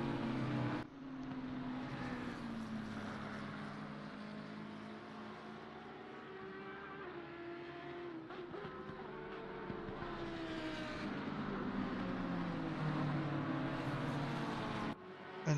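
Race car engines in the Assetto Corsa Competizione sim racing game at the Kyalami circuit, a sustained droning roar whose pitch sweeps up and down through gear changes, with cars passing and fading, no talk.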